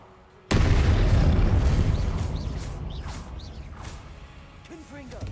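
A Confringo spell explosion in Hogwarts Legacy bursts suddenly with a loud boom, then its rumble slowly decays while faint magical whooshes and chirps follow.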